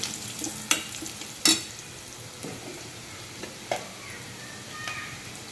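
Green chillies and red chilli powder stir-fried in a pan for a radish greens dish, giving a soft, steady sizzle with a few sharp scrapes and clinks from the stirring spoon and no talking.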